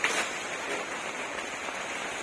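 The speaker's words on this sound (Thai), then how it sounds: "นี้ฝนตกนะคะแม่ค่ะตกทั้งวันทั้งคืนเลยนะคะ" Heavy rain pours down in a dense, steady hiss of drops on surfaces, loud and constant throughout with no talking.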